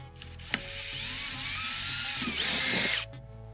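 A power drill with a 3/4 inch bit whirs up to speed and bores through material for a few seconds, its pitch rising under load before stopping.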